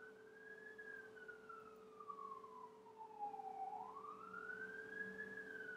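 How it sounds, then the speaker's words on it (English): A siren wails with a slow rising and falling pitch, steady and fairly loud, sweeping down then back up as an emergency vehicle passes. "going to wait for the siren to go by."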